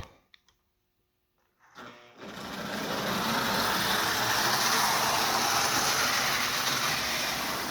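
A Marx 3000 toy locomotive with tender starts up after a few clicks and runs on track, a steady fast whirring and rattling that swells and then holds loud and close.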